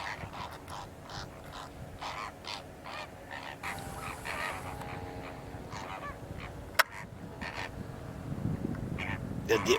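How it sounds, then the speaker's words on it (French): Toads croaking mixed with honking ducks overlap in a busy wetland near Narbonne–Perpignan, France, many calls repeating irregularly at mid distance, with a sharp click partway through. "C'est un mélange de bruit de crapaud combiné à un bruit émis par les canards."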